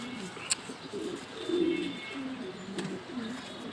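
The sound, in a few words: racing pigeon cooing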